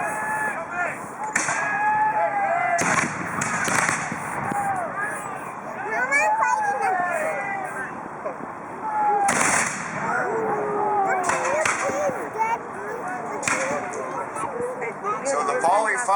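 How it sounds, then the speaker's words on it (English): Musket volley fire at a reenactment of the Battle of York, with several sharp, loud bursts of gunfire ringing out at intervals across a busy outdoor field, mixed with crowd noise and chatter. "So the volley fire was what was effective in defeating an enemy"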